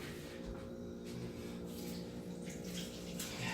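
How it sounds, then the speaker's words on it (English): Steady tap water runs continuously into a sink for a few seconds, a close, even rushing wash with no talking over it. "Now I'm going to go rinse off real quick over here"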